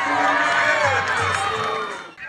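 A crowd cheers and shouts at a village donkey race held on a festive track, loud, continuous, overlapping voices with children's calls mixed in, close and lively throughout.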